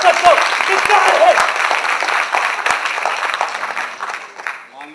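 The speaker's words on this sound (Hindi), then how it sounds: "इसके लिए आवश्यक है आप लोग द्वारा बजाई गई तालियां।" A crowd at a political rally claps in a loud, fading burst of applause, with a few sharp individual claps standing out.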